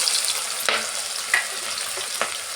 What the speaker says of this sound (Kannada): ಸ್ವಲ್ಪ ಈ ಥರ ಒಂಚೂರು ಫ್ರೈ ಮಾಡ್ಕೊಳ್ಳೋಣ ಎರಡು ಈರುಳ್ಳಿನ ಈ ಥರ ಕಟ್ ಮಾಡ್ಕೊಂಡಿದ್ದೆ ಅದನ್ನು ಸೇರಿಸ್ತಾ ಇದ್ದೀನಿ